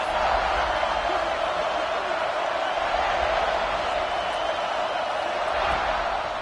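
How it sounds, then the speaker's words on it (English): A football stadium crowd roars in a steady, dense wash of noise that holds for the whole stretch, with a commentator talking over it. "This crowd ready to make its presence known."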